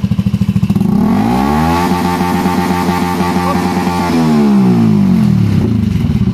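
Close by, an inline-four motorcycle engine with an aftermarket pipe and silencer climbs from a lumpy idle into a long, hard rev, holds high, then drops back to idle.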